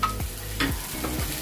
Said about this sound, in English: Now our onions are fried little. If they are translucent, you add your coconut.